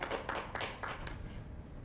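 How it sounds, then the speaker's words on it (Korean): Brief burst of audience clapping at a forum session on rural river conservation, several quick irregular claps fading within about a second, moderately near and alone without talk. "박수 부탁드릴게요."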